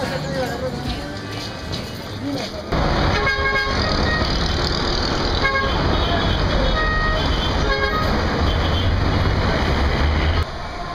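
Busy Lima city street traffic roars with a dense wash of engine noise, punctuated by repeated short car horn toots, loud and close from every side.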